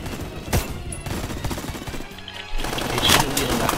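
Gunfire in the video game Phantom Forces comes as rapid shots close by, a few sharp louder cracks standing out, with a brief lull before firing resumes.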